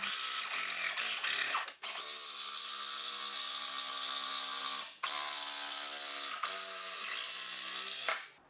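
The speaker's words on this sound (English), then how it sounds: "I can now cut away the front support using the jigsaw and can remove it." A jigsaw cuts through the front support of a kitchen worktop during a sink or hob cutout, a loud, close, buzzing blade drone that runs steadily and briefly stops and restarts twice.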